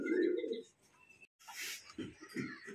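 A pair of Blue Shirting fancy pigeons coo softly, a low murmuring call near the start followed by faint rustling and a brief brighter burst of noise, with quiet background movement and no voices.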